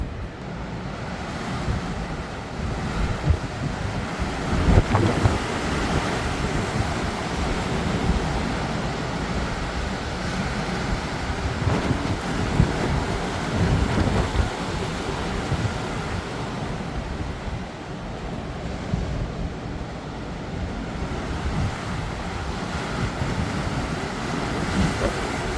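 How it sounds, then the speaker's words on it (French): Storm Nils blowing through Bordeaux with gusts up to 124 km/h, a loud, continuous roar of wind buffeting the microphone that rises and falls in rushing surges for the whole stretch, with no voices. "mais jusqu'où elle va aller cette tempête, les amis?"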